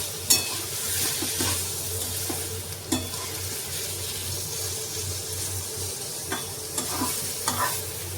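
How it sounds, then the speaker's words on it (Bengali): A spatula stirs rice in a frying pan for a Bengali rice and pointed gourd dish, sizzling softly with scattered scraping clinks close by. "এবার চালটা দিয়ে একটু নাড়তে হবে"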